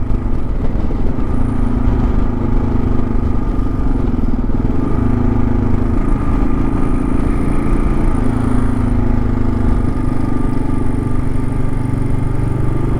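A 2022 Kawasaki KLR650 motorcycle rides along a road, its engine droning steadily and loudly up close for several seconds under wind rush, with no speech.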